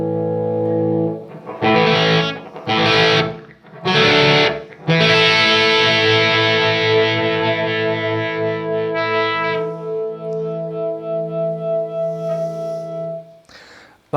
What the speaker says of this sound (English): So this is my natural overdrive tones within the amp.